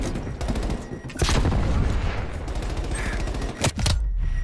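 Gunfire and explosions from Call of Duty: Black Ops Cold War, including a frag grenade, give sharp blasts and rattling shots over a dense battle din, with a loud burst near the start and another late in the clip.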